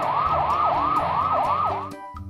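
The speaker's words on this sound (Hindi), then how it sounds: "फूड इंस्पेक्टर और पुलिस सायरन बजाते हुए जीप में वहां पहुंचते हैं" A loud wailing police siren on a jeep sweeps up and down repeatedly, close by, then cuts off abruptly as the engine rumbles underneath.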